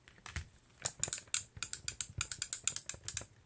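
Buttons on a Spectravideo Quickshot joystick controller for the Nintendo are clicked repeatedly, giving a quick, fairly regular series of sharp plastic clicks, close up and alone.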